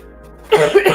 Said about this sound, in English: Excuse me, I'm ruining the music. My coughs.